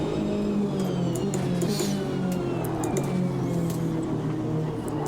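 Race car engine in the Automobilista 2 racing game, Racin' USA pack, heard from inside the cockpit: a continuous, fairly loud engine drone whose pitch shifts slightly, with no talk.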